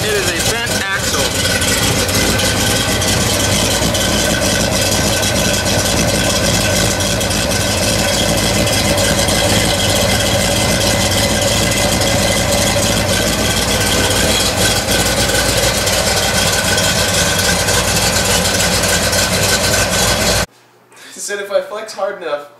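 Engine cranked up and held at a steady idle on a budget drag car with a rebuilt motor, a wheel pulled off and a bent axle, loud and continuous before cutting off near the end.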